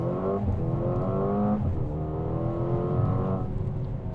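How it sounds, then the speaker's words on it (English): A Mercedes-AMG GLA 35 SUV pulling away on a launch start, its engine note rising through the gears with steady harmonic sweeps and brief dips at each shift, loud and close throughout. "you get a launch start option in these cars"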